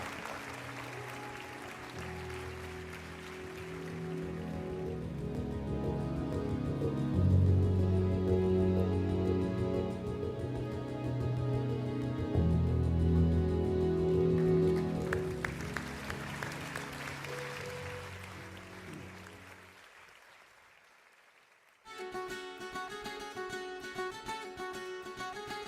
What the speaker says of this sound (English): Ladies and gentlemen, a round of applause for all our dignitaries.